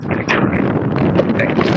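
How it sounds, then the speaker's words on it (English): Wind blows outdoors straight into a microphone, a loud, rough, gusty buffeting that never lets up. "So I'm outside, so it's like hella windy."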